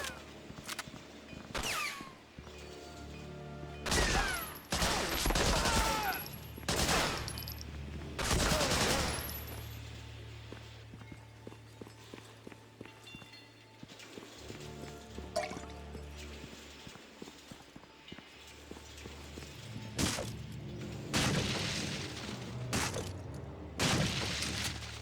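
Gunfire in Medal of Honor: Frontline on PS2, a machine pistol firing in scattered loud bursts and single shots against a low rumbling background, with a voice talking in between.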